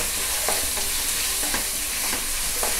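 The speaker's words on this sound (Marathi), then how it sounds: "हा कांदा पूर्ण व्यवस्थित चांगला लाल होईपर्यंत." Onions frying on high heat in a pan while being stirred, a constant loud sizzle with soft scraping strokes of the spoon every half second or so, no voices.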